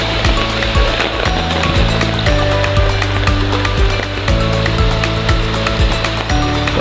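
Heavy, unrelenting rain with rushing flood water near a rising lake, a loud, dense, steady roar that fills the whole stretch with no break, close and all-enveloping.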